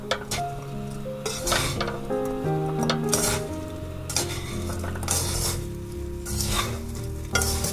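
A utensil scrapes and clinks steadily in a pan as candied green papaya jam with milk is stirred over a low sizzle, close and continuous, with sustained background music and no talking.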